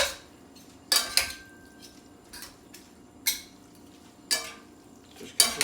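Pasta tagliolini tossed in a pan with a spoon and fork, metal utensils scraping and clinking in about six separate bursts with quiet gaps between, close and alone.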